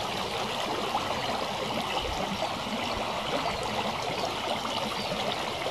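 The Tirlyanka river in spring flood rushing and churning, a steady full-bodied roar of water heard close up with no voices.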